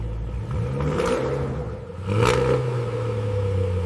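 A Toyota Supra engine revving hard, rising in pitch, dipping briefly, then surging again into a loud, close, sustained roar.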